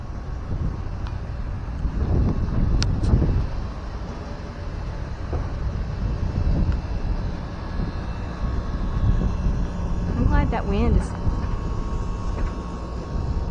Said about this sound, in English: I'm glad we got some wind.